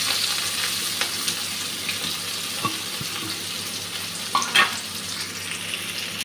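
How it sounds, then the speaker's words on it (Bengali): Onion and green chilli frying in white oil in a wok, a steady close sizzle with a few soft clinks and stirring knocks over it. "সাদা তেল দিয়েছি কড়াতে, পেঁয়াজ আর কাঁচা লঙ্কাটা দিয়ে দিয়েছি।"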